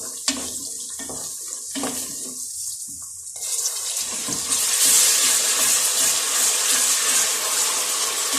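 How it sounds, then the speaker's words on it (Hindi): Water splashes steadily into a cooking pot of turnip and meat curry with softened onions and tomatoes, starting in short gushes and then pouring continuously as the hot pot hisses. "अब हल्का सा पानी डालने लगी हूँ।"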